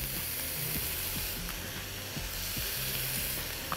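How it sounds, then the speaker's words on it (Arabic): Onions sizzle in a frying pan for tuna and dill pasta, a steady hiss with the rhythmic scrape and clatter of stirring running through it, close and moderately loud with no talking. "هنزل على طول بالبصل تقليبة سريعة"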